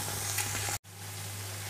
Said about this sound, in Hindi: अब इसको भी 1-2 मिनट के लिए भूनते हैं क्योंकि लहसुन अदरक का कच्चापन दूर हो जाए